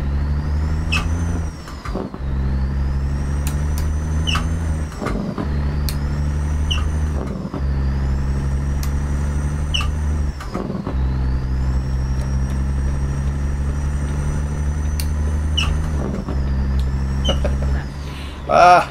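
Simulated Peterbilt 379 truck with a Cat 3406E engine in American Truck Simulator, droning steadily with rhythmic dips and rises as the engine brake works through gear shifts, loud and continuous with occasional faint voice.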